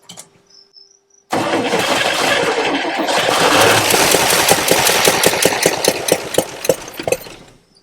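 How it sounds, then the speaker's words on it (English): A 1974 International 150 pickup engine cranks and catches, starting loud and close with a rough, uneven churn that turns into a rapid run of sharp firing pops before winding down. No one talks. "I'm gonna go crank on the key and see if anything happens"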